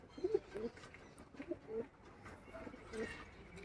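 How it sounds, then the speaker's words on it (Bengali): Soft, low pigeon coos repeat a few times at close range inside a pigeon loft, mixed with faint murmuring and rustling. "দেখুন পায়রা"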